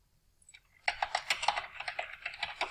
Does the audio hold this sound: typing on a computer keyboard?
yes